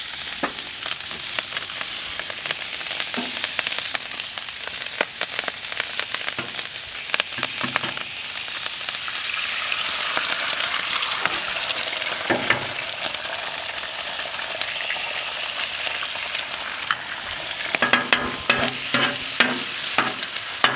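Egg frying in a little oil on a hot griddle beside drying rice, a steady close sizzle running throughout with scraping stirs and spatula clicks, no voices.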